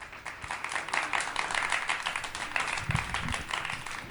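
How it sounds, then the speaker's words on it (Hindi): Audience clapping at a trader graduation ceremony as the director of academics is welcomed, a steady wash of many hands applauding at moderate volume, no one speaking. "तालियों की गूंज में सर को स्वागत करते हैं।"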